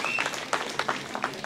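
Applause from an audience at an outdoor chestnut festival and environmental event, a steady patter of clapping hands held at moderate loudness with a few sharper claps standing out for a brief moment.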